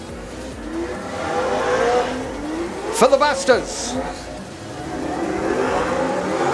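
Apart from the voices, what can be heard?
speedway race car engine revving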